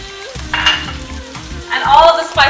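Tomatoes and green chilies hit hot oil with garlic and ginger, sizzling loudly up close with spoon stirring and pan scraping throughout.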